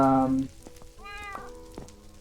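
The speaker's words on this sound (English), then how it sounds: "this is Kendra's cat" A cat in a survival video game meows twice, a short mew followed by a longer, higher one, with faint clicks and a low hum behind it.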